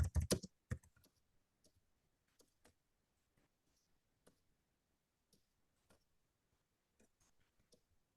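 Typing on a computer keyboard, starting with a brief flurry of loud clicks, then sparse, faint, irregular keystrokes in a quiet room.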